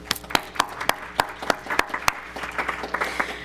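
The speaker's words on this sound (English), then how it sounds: "Let's give her a round of applause." Scattered claps ring out at a school board committee meeting, a handful of sharp distinct hand strikes rather than full applause, close and fairly quiet in a room.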